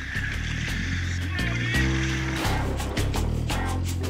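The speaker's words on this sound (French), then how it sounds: "les militaires n'ont pas le droit d'utiliser le moteur. Il va donc falloir pagayer." Soldiers in commando training paddle a boat by hand with the engine off, the clip giving rhythmic paddle strokes and splashes at close range over a low droning background.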